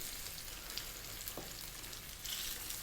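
Fish fries in sunflower oil over medium heat, giving a soft, steady sizzle and crackle like light rain, faint and continuous across a few seconds, with no talking.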